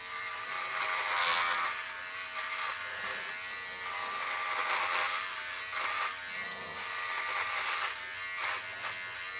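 A Dollar Shave Club Double Header electric trimmer buzzes continuously while shaving hair, close and steady with slight pitch shifts as it moves across the skin.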